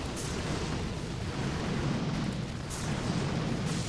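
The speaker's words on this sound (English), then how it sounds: "The boom cannon's working overtime here." Boom cannon fire and explosions in the mobile strategy game Boom Beach make a dense, continuous roar of overlapping blasts and rumbling impacts, loud and close, with a few sharper bursts cutting through.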